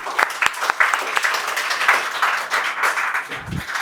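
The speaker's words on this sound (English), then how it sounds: "Clap for her" A classroom audience of students claps for a fellow student at a public speaking activity, a brief round of scattered, fairly close claps with a few sharper individual hits.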